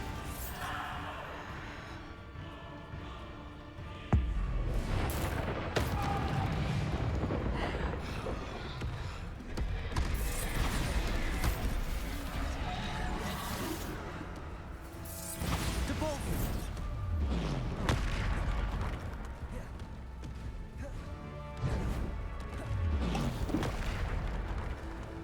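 Repeated Bombarda spell explosions in a video game, booming impacts and crashes recurring through a dense, loud mix of game effects, with a voice calling out spell names throughout.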